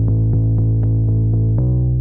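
A solo Unison Bass Dragon synth bass plays a steady run of short, punchy low notes, about four per second, with a slight pitch drop near the end.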